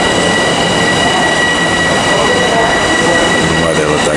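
A Long Island Rail Road train sits at a station platform, giving off a steady, loud mechanical rumble and hum with high electrical whines throughout and faint rail noise.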